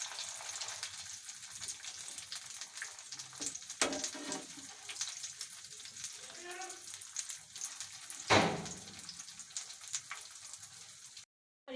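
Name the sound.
vegetable pakoras frying, being turned over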